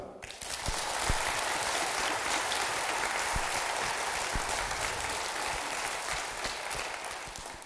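A concert audience in Katowice applauds the performing stars, a steady, moderately loud wave of many clapping hands that sets in quickly and holds for several seconds, with a few sharper individual claps standing out.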